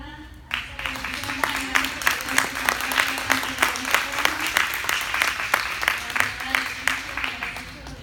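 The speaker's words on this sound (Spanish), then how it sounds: "Pues debemos tener un fuerte aplauso, ¿verdad?" Audience applause at a parish gathering in Atlanta, a burst of clapping that starts abruptly and keeps going with a steady, rhythmic pulse, while a sustained voice or tone hums beneath it.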